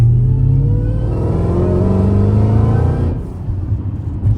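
A Dodge SRT of over 800 hp revs with its exhaust valves closed, a loud muffled engine drone climbing steadily in pitch for about three seconds before dropping off to a lower rumble, heard from inside the car without speech.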